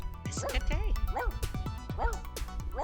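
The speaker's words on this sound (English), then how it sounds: "I'm so happy that they got a dog." Dixie, a dog in The Sims 2 video game, barks in a run of sharp, bright yips and woofs at close range, about six barks spaced irregularly over a steady game background.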